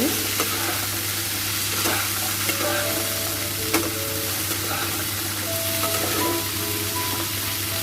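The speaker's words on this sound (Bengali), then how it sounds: "কেটে রাখা কুমড়ো ডাঁটাগুলোকে আমরা দিয়ে দেব, দিয়ে সুন্দর করে একটু ভেজে নেব" Cut pumpkin stems frying and sizzling in a pan of hot oil for a vegetarian dish, a steady close crackle with occasional stirring clinks, no voices.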